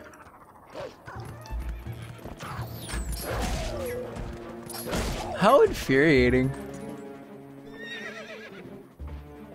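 A horse in the Zelda game Twilight Princess gives a loud, wavering whinny midway through, with hoof clip-clop and game effects around it and people talking over much of it.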